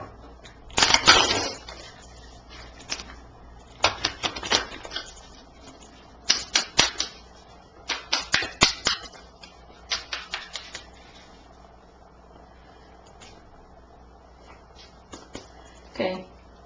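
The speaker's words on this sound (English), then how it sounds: "Let me shuffle these a second." A tarot card deck is shuffled close by in repeated bursts of quick crisp riffling and clacking, separated by short pauses, with soft background hiss.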